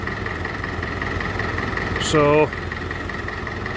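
A David Brown 1490 tractor's diesel engine idles steadily with a low, even chug, running on after a cold start, while a voice briefly speaks over it partway through.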